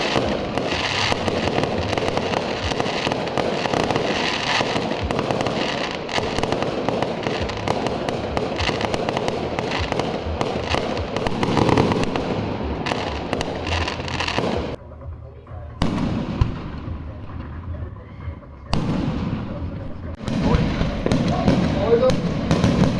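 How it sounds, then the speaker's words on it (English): A fireworks display put on by a local rugby club and heard from a nearby house, with rapid crackling bursts and booms rolling almost continuously, briefly thinning out toward the end, and people talking over it. "the local rugby club put up the fireworks display, which we can see really clearly from our house"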